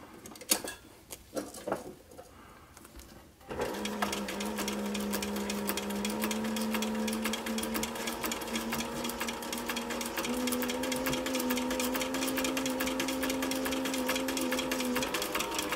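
A sewing machine stitches fabric for a sun visor cap in a steady, continuous mechanical whir with a fast rhythmic needle clatter, running close and alone after a few seconds of handling noise.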